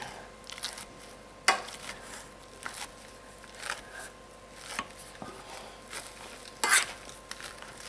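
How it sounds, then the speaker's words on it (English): Boiled potatoes get mashed with an old-school hand masher: irregular soft squelches and occasional sharp clanks against the pot, close but fairly quiet, with no talk. "Old school masher. Just mash them."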